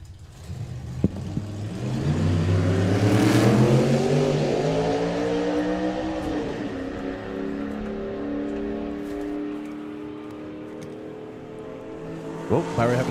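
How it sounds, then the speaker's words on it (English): A supercharged drag racing car engine revs up and down through its range at a nostalgia drag event, a loud, rising and falling roar with shifting pitch close by. "Barry having to play with all of the RPMs in the range, just not necessarily in sequential order."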